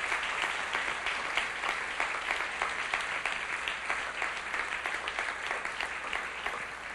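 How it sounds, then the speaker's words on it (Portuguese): A church congregation claps together in steady, dense applause that fills the room evenly from start to finish. "dar um lindo aplauso ao Senhor pela vida dos visitantes"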